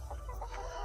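Chickens and quail in a backyard flock cluck softly and steadily at close range, with a low hum underneath and no talking.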